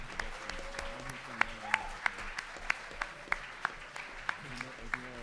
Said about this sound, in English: So clapping is in order.